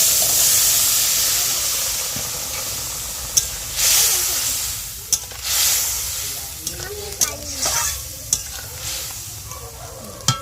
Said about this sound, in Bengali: আমি গরম তেলের উপর একটু হলুদ দিয়ে দিলাম